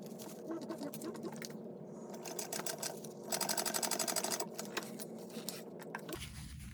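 A sewing machine top stitching fabric for a small children's bug backpack, its needle running in quick rhythmic bursts close by, with a faster, louder stretch of stitching in the middle.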